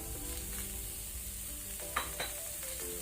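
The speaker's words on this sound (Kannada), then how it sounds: "ಸೇಮ್ ಪ್ಯಾನಿಗೆ ನಾವಿಲ್ಲಿ ತೆಗೆದಿಟ್ಕೊಂಡ ಅನಿಯನ್ ಈರುಳ್ಳಿ ಅರ್ಧದಷ್ಟು ನಾವೀಗ ಫ್ರೈ ಹಾಕೊಳ್ಳುವ" Onions fry quietly in a pan, a soft, even sizzle with a couple of brief clinks of a spoon stirring.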